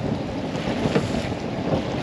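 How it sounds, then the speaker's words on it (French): Wind buffets a boat as it drifts away from the quay, a steady rumbling gust noise with microphone wind roar and faint water sounds. "le vent est décostant, c'est-à-dire qu'il m'éloigne du quai"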